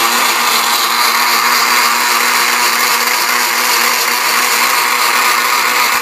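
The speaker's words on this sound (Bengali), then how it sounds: "সব কিছু একসাথে দিয়ে আপনি ব্লেন্ড করা শুরু করবেন" An electric blender whirs steadily and loudly, blending a yogurt borhani drink for a Bangladeshi wedding, one continuous dense roar with no pauses.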